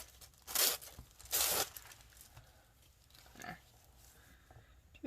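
Thin tissue paper ripped by hand in two quick, loud bursts, followed by a softer tear and faint crinkling, close up with no talking.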